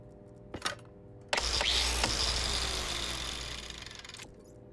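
A drill running in a video game about atmospherics and cooling: one brief tap, then a sudden loud, steady mechanical whir with a low hum that holds for about three seconds and cuts off sharply.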